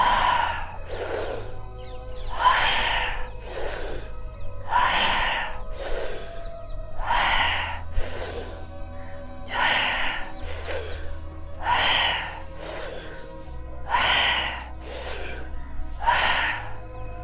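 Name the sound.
guided meditation breathing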